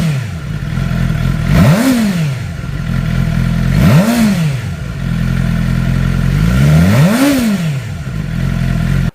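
Suzuki GSX-R750 sportbike engine, 2008–2010 generation, revved three times at steady intervals from a rumbling idle, each blip rising sharply and falling back, loud and close with no voices.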